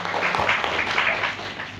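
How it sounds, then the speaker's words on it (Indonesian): A seminar audience claps together at an Indonesian motivational success talk, a sustained wash of applause at moderate level, steady and without speech over it. "Tepuk tangan untuk Anda semuanya"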